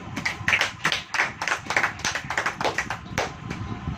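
A church congregation clapping hands together in a steady, rhythmic beat, loud and close, with many hands striking in unison and no talk over it.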